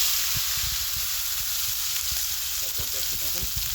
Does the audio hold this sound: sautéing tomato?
yes